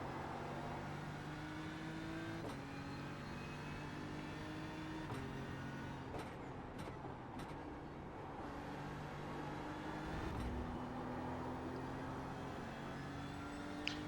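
A BMW M4 GT3 race car in iRacing at Watkins Glen, its engine droning steadily and climbing through the revs, with several sharp gear shifts punctuating the sustained, close-up engine note.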